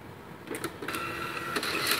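Printer running inside a Kmart store, giving a steady mechanical whir with short clicking bursts, moderately loud against faint store ambience.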